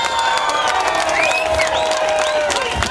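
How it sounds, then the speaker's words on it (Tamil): A crowd at an association event applauds and cheers to welcome a playback singer, clapping mixed with whoops and whistles, fairly loud and lively throughout. "அவர் கிட்ட வரும்போது உங்களை அன்போடு அவர் கரகோஷத்தோடு உங்களை நான் வரவேற்க ஆசைப்பட்றேன்"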